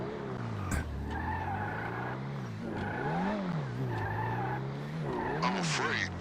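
A Corvette skidding in GTA 5 Online, repeated tire squeals rising and falling in pitch over a droning engine, fairly close and continuous, with a voice talking over part of it.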